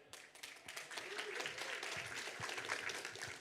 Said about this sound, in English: please give a big hand of applause for Jose